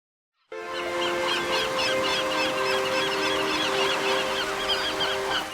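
Gulls call and squabble over a harbor seal's placenta in a feeding frenzy, a dense run of loud, repeated honking cries that starts abruptly and continues without pause.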